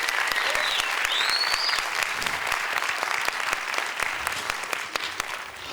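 An audience applauds steadily for a young presenter at a science seminar, SIYSS 2019: dense, sustained clapping with a few faint whistles, holding at an even volume and easing slightly toward the end.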